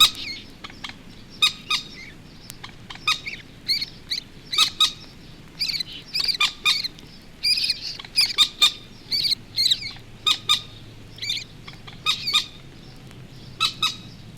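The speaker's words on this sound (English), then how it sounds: "An adult moorhen gives the alarm as a young bird calls and makes for shelter." Moorhens at marshy gravel pits: an adult gives sharp, repeated alarm calls while a young bird answers with thin, high calls, a steady string of bright squawks and chirps over a low background hum, with no talking.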